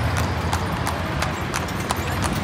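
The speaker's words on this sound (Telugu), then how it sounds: "గుర్రం ఎక్కాం" Horse hooves clip-clop in a steady, even rhythm on a horse ride through Luxor, Egypt, the sharp repeated strikes close and clear over a constant background of street noise.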